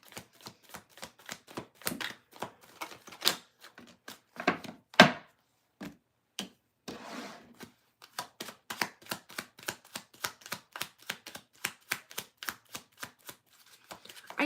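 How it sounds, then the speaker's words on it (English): Tarot cards being shuffled by hand, a run of sharp irregular taps and riffling bursts, close and clear, with short pauses between bursts and a few heavier knocks, and no speech. "I did shuffle really good."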